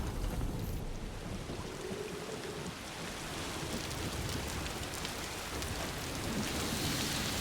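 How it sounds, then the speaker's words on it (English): Steady rain pours throughout the Timefall downpour in Death Stranding 2: On The Beach, a dense, unbroken hiss that stays loud and close for the whole stretch, with no voices over it. "It's Timefall rain."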